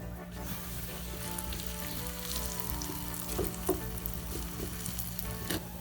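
Homemade bread cooking in about a tablespoon of oil in a pan gives a steady, close hiss and crackle of frying, with a couple of brief clicks partway through and no voices.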